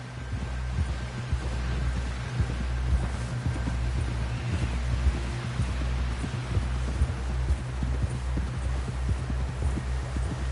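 Horse hooves clip-clopping at a steady walking rhythm in the video game Red Dead Redemption II, close and clear over a low ambient hum, with no talking.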